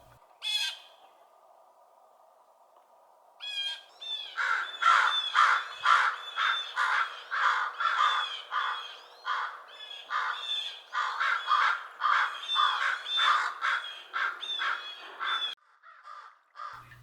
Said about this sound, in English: great horned owls are often harassed by crows, ravens, songbirds, and even raptors, with loud, incessant calls